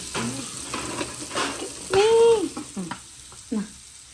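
Vada pav batter balls deep-frying in hot oil give a steady sizzle and bubbling, with a few stirring clatters and a short pitched voice-like sound partway through.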